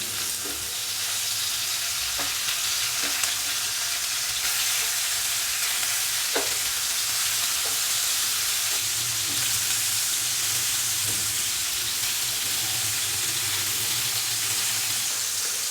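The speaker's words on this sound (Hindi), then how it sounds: "चिकन की एक साइड को मैंने 5 से 7 मिनट के लिए मीडियम फ्लेम पे फ्राई कर लिया है" Chicken pieces fry in oil over a medium flame for a black pepper dry chicken, giving a steady, close, dense sizzle that runs throughout with a few faint clicks and no talking.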